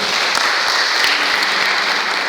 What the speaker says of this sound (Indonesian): Tepuk tangan buat saudara.